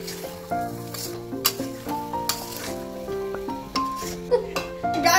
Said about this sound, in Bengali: আমরা অল্প অল্প করে জল দিয়ে আলুটাকে ভালো করে কষিয়ে দেবো।